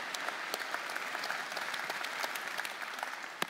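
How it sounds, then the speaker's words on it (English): Church congregation applauding the Bosnia mission team during a Sunday service, a steady patter of clapping from a crowd, moderately faint and distant, with no talk over it. "Let's give a round of applause to the Bosnia team."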